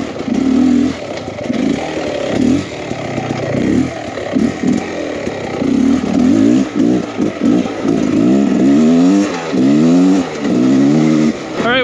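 A 2023 Beta Xtrainer 300 enduro motorcycle engine lugs at low revs on a trail, a steady close rumble with uneven throttle swells and rising pitch sweeps toward the end.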